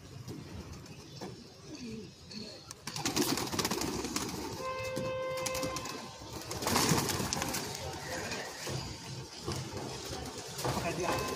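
Pigeons coo softly amid a busy outdoor scene, with people talking and a brief high tonal whistle in the middle.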